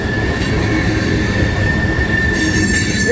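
A CSX ethanol freight train passes close by with a steady, loud rumble of rolling cars and a sustained high wheel squeal running throughout, without any talk.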